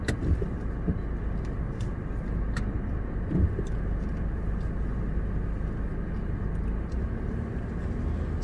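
Steady interior rumble of a car driving along a road in Lindesberg, Sweden, heard from inside the cabin as a continuous low drone with faint occasional clicks. No one speaks.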